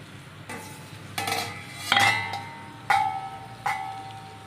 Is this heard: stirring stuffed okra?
yes